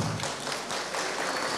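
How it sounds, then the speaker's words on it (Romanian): An audience claps steadily throughout a short stretch at a village ceremony in Ghimpați honouring couples married fifty years, with a dense, even patter and no talk on top. "Să-l aplaudăm!"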